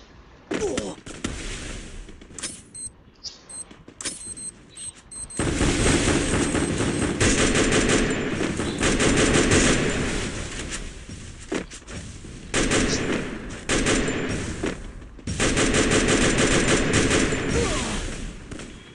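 Gunfire in a mobile-style shooter game, with sparse shots early followed by long dense bursts of automatic fire in several loud stretches, music and game sounds mixed in, a voice faintly present.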